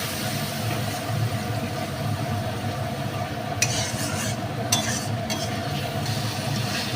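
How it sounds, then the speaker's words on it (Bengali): Ground cumin and chilli powder masala is stir-fried in a pan for egg vapa, a continuous close frying hiss broken by a few quick scraping strokes of a spatula. "দিয়ে মশলাটা আমি আবারও খুব ভালো করে কষাবো।"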